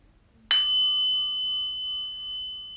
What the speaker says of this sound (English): And we'll start off with the sound bowl.